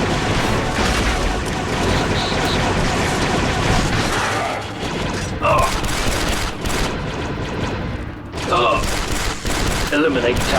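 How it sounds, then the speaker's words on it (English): Blaster fire in the Star Wars Republic Commando video game on Switch, rapid continuous volleys of loud shots with booms layered over a busy battle, bursts spiking toward the end. "Watch that blaster fire."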